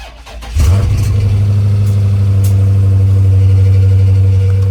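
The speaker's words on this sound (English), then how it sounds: "I'm gonna go ahead, turn on this Challenger." A Dodge Challenger Scat Pack fires up with a sharp starter crank and catch, then settles into a loud, steady, deep idle rumble close by, with no talk.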